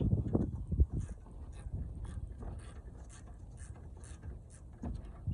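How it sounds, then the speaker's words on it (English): A ratchet with a 10 mm socket turns out bolts during an AC condenser replacement on a 2017 Toyota Corolla, making quick rhythmic clicking bursts, close and moderately quiet, with some clunks early on. "You want to get in there with a 10 millimeter and a ratchet and get those two off."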